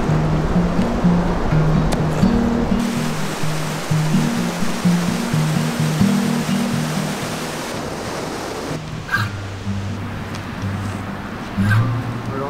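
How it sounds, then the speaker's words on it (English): A steady, loud roar of rushing water from a big wilderness waterfall, with a low humming tone pulsing underneath. "Big waterfalls."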